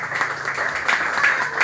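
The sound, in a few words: congregation applause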